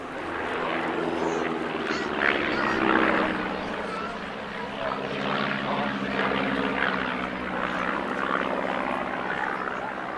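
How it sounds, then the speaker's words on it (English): Stomp formation team propeller aircraft, based at Headcorn, fly past at an airshow, their engines droning steadily with a harmonic hum that swells and eases slightly over about ten seconds, fairly distant and unbroken. "The team we're watching now is the Stomp formation team based at Headcorn here in the UK."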